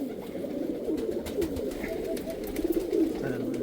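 Pigeons coo in a low, murmuring chorus at a rooftop loft, steady and fairly close, with a few slightly louder calls near the end and faint background noise.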